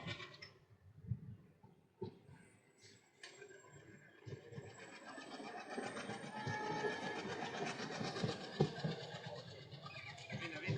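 A train rolling across the Pamban sea bridge near Rameswaram, steady clattering wheels and rail noise building in loudness over several seconds, with no voices, heard from close alongside the track.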